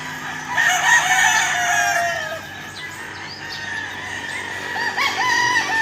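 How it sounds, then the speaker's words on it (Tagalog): Several chickens cluck and a rooster crows nearby on a rural poultry farm, their calls overlapping in a busy, continuous farmyard chorus. "Daming manok."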